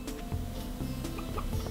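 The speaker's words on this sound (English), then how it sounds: "We have some unhappy chickens for some reason." Unhappy chickens cluck in the farming game Stardew Valley, a short burst of soft, repeated clucks and ticking game sounds at moderate volume with no talk.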